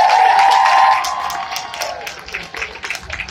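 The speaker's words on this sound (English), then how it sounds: "If we could just give them a round of applause." Outdoor protest crowd applauding and cheering for educators, a dense burst of clapping that fades after about a second into scattered claps and voices, with people talking through the noise.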